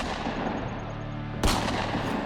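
A gunfire sound effect for the 1881 gunfight at the OK Corral in Tombstone, Arizona: one sharp, loud blast bursts out of a low rumbling bed and leaves a noisy, echoing tail.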